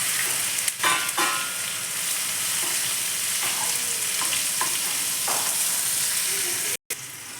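Curry leaves and fried okra sizzle and crackle steadily in a hot pan, with a few stirring scrapes and brief clinks over the continuous fry, close and moderately loud.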